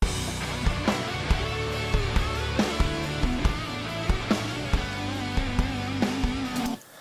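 Rock drum mix, apparently a metal-style production, squashed through a limiter on the mix bus: punchy kick and snare hits in a steady driving beat with cymbals washing over dense backing, loud and compressed, cutting off abruptly near the end.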